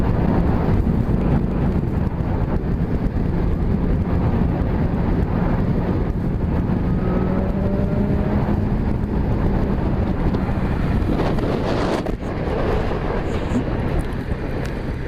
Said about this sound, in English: whose idea was it to test ride a bike during a storm?